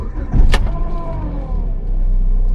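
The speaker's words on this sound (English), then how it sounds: "Turn the car back on." A car engine cranks briefly with a sharp click, then settles into a steady low idle hum, on a car with a fault making an odd noise.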